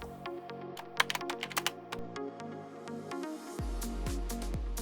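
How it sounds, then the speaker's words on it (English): Keys clatter on a computer keyboard at a device console in a steady burst of close, crisp taps, with a low hum from an embedded board setup underneath and a thump as the sound shifts near the end. "When it is on, type anything in the console."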